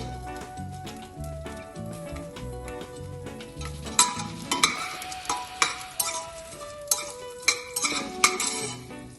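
Garlic and ginger fry in a pan while a spoon clinks and scrapes against the metal, with tonal ringing early on, then brisker clattering strokes over a light sizzle.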